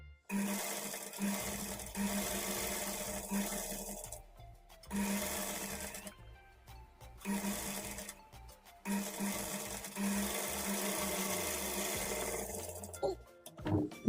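A sewing machine stitching a blouse runs in several separate bursts of a few seconds each, with short pauses between, close and fairly loud, with a soft voice briefly near the end.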